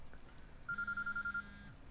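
A cell phone rings in the video game Quantum Break, a steady electronic trill pulsing in quick repeated bursts for about a second over a low ambient hum, with no voices.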